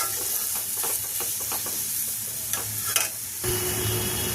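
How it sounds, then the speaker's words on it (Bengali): Chana masala spice paste frying with a little water, spoon scraping and stirring in short bursts over a constant soft sizzle, close by, with a louder hiss surging near the end; no talk. "দিয়ে মশলাটা খুব ভালো করে কষাবো।"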